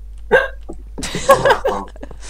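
A person hiccups in a noisy room, a sharp hiccup followed by a burst of overlapping voices and laughter-like sounds.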